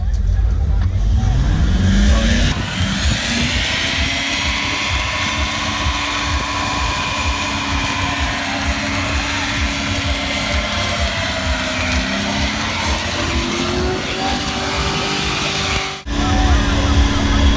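A Ford Crown Victoria's engine revs hard as it pulls off in first gear, a loud sustained roar with rising pitch sweeps and tyre noise, continuing strong before cutting briefly near the end; voices are faintly present.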